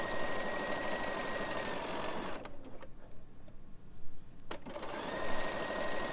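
A Bernina sewing machine fitted with foot 3C sews shearing elastic, its rapid mechanical whir running steadily up close, pausing briefly in the middle, then starting again.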